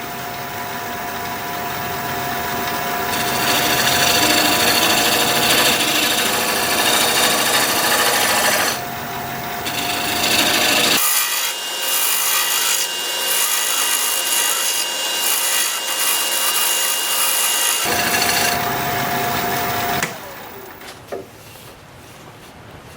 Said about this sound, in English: I'm going to try and shear scrape that a little bit